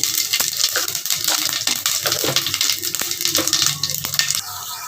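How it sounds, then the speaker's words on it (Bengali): Two bay leaves and whole cumin seeds sizzle and crackle in hot oil in a pan, a loud, continuous frying hiss with sharp pops, close up and without talk. "ফোড়নে দিয়ে দিলাম দুটো তেজপাতা আর কিছু গোটা জিরে।"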